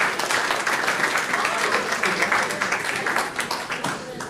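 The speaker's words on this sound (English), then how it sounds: "once again, a round of applause for the gang." An audience at a regional chamber of commerce awards ceremony applauds steadily, a dense wash of many hands clapping at close range that thins slightly toward the end.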